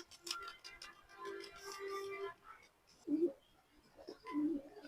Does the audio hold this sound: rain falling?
no